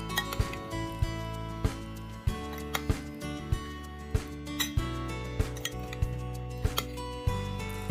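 A spoon clinks against a dish while couscous is mixed with salt and already fried chicken fillet, giving a steady run of sharp, close taps and scrapes at irregular intervals with no talking.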